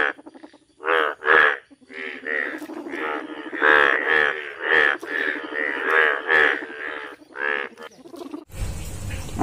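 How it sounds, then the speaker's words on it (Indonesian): A frog croaking in a children's animal toy segment: a loud run of repeated, throaty croaks in quick irregular bursts, ending in a short noisy rush. "Widih, ini kodok."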